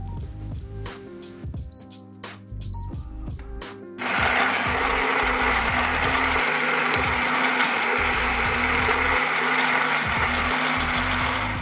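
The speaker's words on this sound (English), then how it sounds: "Once the grinder is grinding" The built-in grinder of an automatic espresso machine grinds coffee: quiet clicking and mechanical tapping at first, then a steady loud whirring grind starts partway through and runs continuously to the end.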